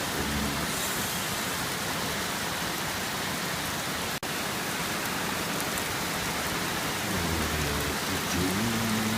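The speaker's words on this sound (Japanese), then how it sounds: "雨粒がもう大きいですね、これはね。" Very heavy typhoon rain pours steadily onto roofs in Odawara, a loud, dense, unbroken hiss of large raindrops drumming throughout with no voices.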